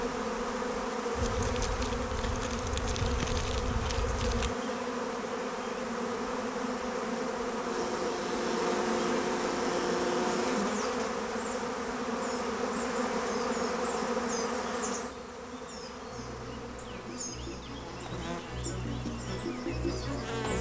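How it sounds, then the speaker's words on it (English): A swarm of honey bees massing around their queen, a dense continuous buzzing drone that stays loud and steady throughout, dipping slightly near the end. "All the bees collect around the queen to protect her and to keep her at the right temperature."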